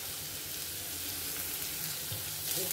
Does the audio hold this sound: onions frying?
yes